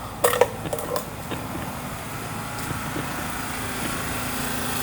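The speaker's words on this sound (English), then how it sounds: "This is them with the generators in here" Small generators running at a homeless encampment, a steady high-pitched engine drone heard from a passing vehicle, with a few brief knocks and clatters near the start.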